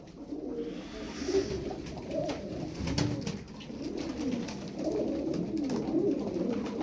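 Star Perçemli Çakmaklı pigeons cooing close by in repeated soft, throaty bursts, with faint background noise and occasional sharp knocks between the calls.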